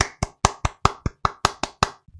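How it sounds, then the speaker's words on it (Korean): Ten crisp, close hand claps in a quick, fairly even rhythm, each sharp and dry with a short decay, heard alone before they stop. "여러분 박수 한번 치고 갑시다"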